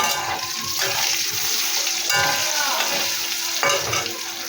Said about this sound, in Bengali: দিয়ে আমি ভালো করে আলুটা ভেজে লাল লাল করে